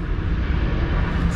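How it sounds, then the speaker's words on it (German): An airplane passes overhead above Tenerife, heard as a brief, steady low engine drone with a broad rushing roar, fairly loud and alone. "Flugzeug."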